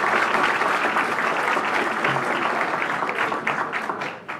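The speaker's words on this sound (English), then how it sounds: "round of applause once again for our cheerleaders" An audience at a school board meeting applauds the cheerleaders in a steady, dense wash of clapping that holds for several seconds before thinning out and tapering off at the end.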